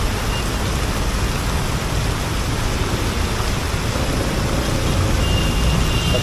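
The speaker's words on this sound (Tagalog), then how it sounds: "Biglang lakas naman tong ulan na to." Heavy rain roaring steadily with broad hiss and low rumble, constant and loud throughout, like rain and wind noise while riding a motorcycle on a road.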